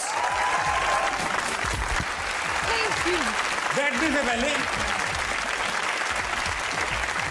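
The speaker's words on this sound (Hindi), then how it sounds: "कभी हमारे लिए भी इस तरह तालियां बजाओ" A talk show studio audience applauds a sportsperson guest in a steady, dense round of clapping, with the host speaking over it partway through.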